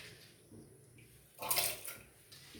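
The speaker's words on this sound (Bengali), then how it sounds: "এবারে জলটা সামান্য গরম হয়ে এলে আমি চালটা দিয়ে দিলাম।" Rice for khichuri pours into a pot of warming water on the stove, a brief bright splashing rush over a soft background hiss, with no talking.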